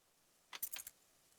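A short, quick jingle of keys in the role-playing game Octopath Traveler 2, a cluster of bright metallic clinks lasting under half a second, then quiet.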